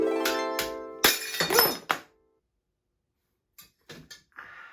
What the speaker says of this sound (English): while the glass jar is in the bag, I'm just gonna try and break it